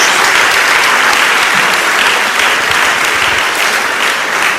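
Loud, sustained clapping from a church congregation during a sermon on Isaiah 6, a thick even roar of many hands that holds steady throughout.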